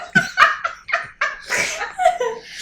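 A person laughs hard in short bursts with snorting breaths mixed in, close and loud, during a podcast quiz round.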